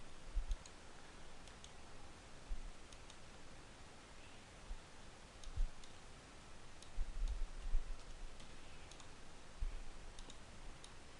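A computer mouse clicks during CAD modelling work, scattered faint taps at an irregular pace over a soft, steady hiss.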